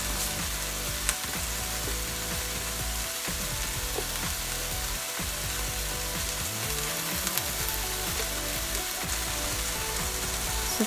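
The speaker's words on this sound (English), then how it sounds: "Saute everything all together." Ingredients for Filipino-style spaghetti sauce sautéing in a pan, giving a continuous close sizzle with intermittent scraping and stirring clatter.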